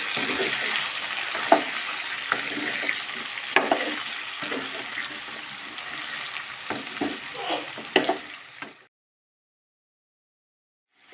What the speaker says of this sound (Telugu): ఇప్పుడు ఈ మొత్తాన్ని మంచిగా కలిపేసుకోవాలి